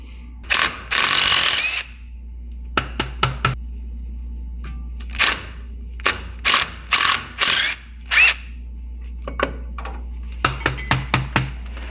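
A hand ratchet works the axle nuts loose on a Jeep CJ5, sounding in quick clicking bursts of varying length separated by short pauses, close and loud with no talking.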